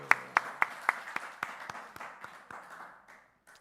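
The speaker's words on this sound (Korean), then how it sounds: "박수." A small church congregation at a Wednesday service giving a brief round of applause, about a dozen distinct claps fading in rhythm and volume until only a stray clap remains.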